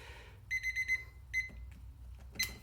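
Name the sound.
timer beeps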